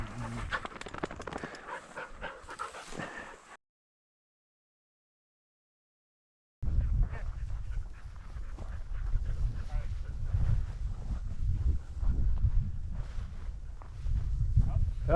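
A hunting dog pants steadily and close by during an upland bird hunt for roosters in the Colorado Rocky Mountains, with wind rumble and brush noise after a brief gap of silence, and people talk in the field.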